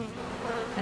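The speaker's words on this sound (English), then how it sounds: "Now, this is my angry hive." Angry honey bees swarming at their hive, a dense, steady buzzing drone close by with no voices.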